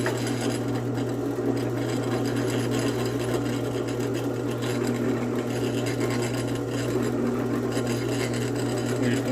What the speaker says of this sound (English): all we need to do is get the burr off of them